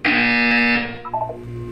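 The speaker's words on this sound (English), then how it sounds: "You will hear a buzzer." A Portal 2 game buzzer sounds as one loud, sustained harmonic alarm tone for most of a second, then decays into a few fainter wavering tones.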